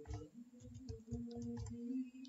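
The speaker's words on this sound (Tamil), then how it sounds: "இப்போ டைப் பண்ணி பார்க்குறேன்னு" Typing in Tamil on a computer keyboard in MS Word 2013, with a quick run of light key clicks and taps at close range and no talking.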